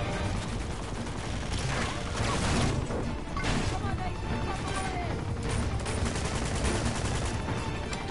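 Rapid gunfire in the game Uncharted: Among Thieves, dense and continuous bursts of shooting filling the whole stretch at loud, steady volume with a voice occasionally underneath.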